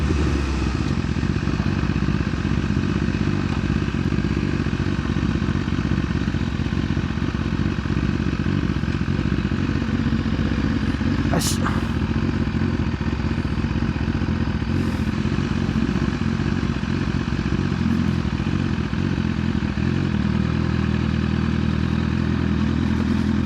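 A BMW S1000RR motorcycle ridden at night, its engine droning steadily and close throughout with a constant low rumble and faint clatter, one brief sharp click partway through, no voices.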